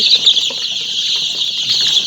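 Fayoumi chickens clucking and chirping in a busy, continuous chorus, with scattered wing flaps, fairly close.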